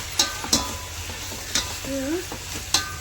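Ginger-garlic paste sautéing in a biryani pot with whole spices, a steady close sizzle punctuated by several sharp spoon scrapes against the pan, with a brief faint voice-like tone in between.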